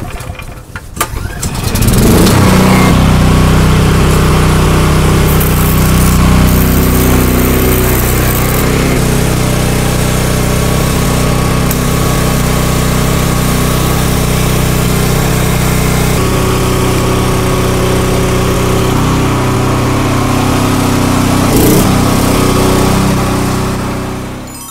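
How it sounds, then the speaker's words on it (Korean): The small engine of an agricultural power sprayer starts up and then runs at a steady, loud, droning pitch for a long stretch, easing off slightly near the end. "전기 분무기, 엔진 분무기 시연은 모두 맞춰봤고요"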